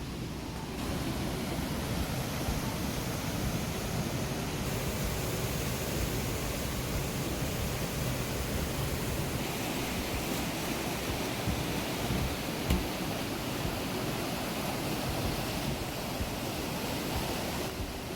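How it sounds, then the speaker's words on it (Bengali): Fast-flowing river water in Antalya, Turkey rushes and tumbles downward in a continuous broad roar, steady and fairly close with no voices. "খুব দ্রুত গতিতে পানিগুলো যাচ্ছে এবং পড়ছে নিচের দিকে"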